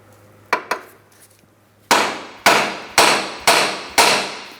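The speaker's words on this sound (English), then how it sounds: "I'm going to use some penetrant and tap on this with a hammer." Hammer tapping on the steering knuckle of a 2003-2007 Cadillac CTS during outer tie rod replacement: two lighter taps followed by five loud, sharp metallic strikes evenly spaced, each ringing briefly, with no talk.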